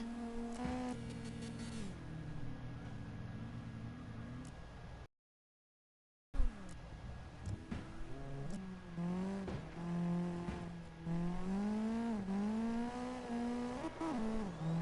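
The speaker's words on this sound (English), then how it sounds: "one person's drifting one way, while the other person's drifting the other." Engines rev and whine as cars drift in the CarX Drift Racing video game, with rising and falling pitch sweeps across a long stretch and a brief gap of silence partway through.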